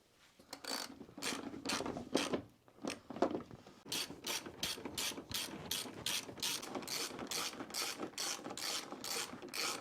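Rapid ratchet clicking comes from tightening the headlight bolts on a 2010 Hyundai Accent. A few separate bursts of clicks give way to a long, steady run of quick strokes, close and clear, with no talk.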